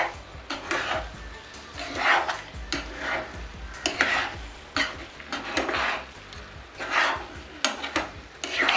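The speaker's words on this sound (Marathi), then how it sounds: "हे रावसाचे जे तुकडे आहेत ते आपण या वाटणामध्ये चांगले एकजीव करून घेऊया" Ravas (salmon) fish pieces are stirred into a spicy Koli-style masala paste in a pan, giving repeated close scraping and clinking strokes of a spoon against the metal pan with a faint sizzle underneath.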